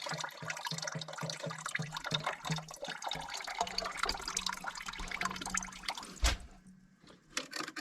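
Water drains from a cut section of burst pipe, splashing and trickling steadily with rhythmic gurgling pulses at first, then a sharp knock before the flow thins out near the end.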